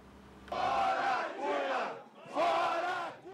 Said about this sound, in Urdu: 10 گھنٹے کی بحث کے بعد یہ تھے نعرے حکومت کے مخالفین کے